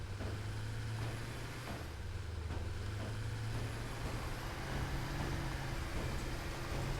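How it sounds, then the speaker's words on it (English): A truck in the Satisfactory video game rumbles along with a low, steady engine drone. Faint metallic thumps knock at irregular intervals over the drone. "What is banging in this truck, right? Do you hear just like the constant thumping of something? It sounds like metal slapping metal."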